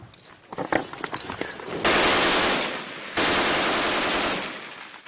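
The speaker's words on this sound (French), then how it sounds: "Les coups de feu ont été entendus pas très loin, mais c'était peut-être des tirs amis." Gunfire during fighting in Mosul: a few sharp distant cracks at first, then two long dense bursts of rapid automatic fire, loud and harsh, each lasting over a second.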